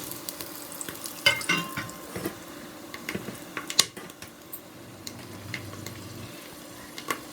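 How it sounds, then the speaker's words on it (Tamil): Spices fry and sizzle in hot oil for prawn biryani, with scattered clicks and spoon taps over a soft continuous hiss at moderate level. "இப்போ பார்த்தீங்கன்னா ஆயில் சூடாயிடுச்சுங்க. நம்ம வச்சுருக்க ஸ்பைசஸ் எல்லாம் போட்டுக்குவோம்."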